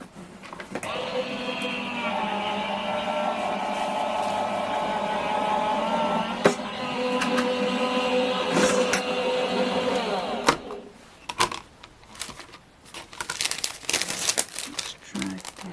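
A die-cutting machine pressing an embossing folder through its rollers gives a long steady grinding, crinkling drone for about ten seconds, then stops into scattered handling clatter and plastic rustle.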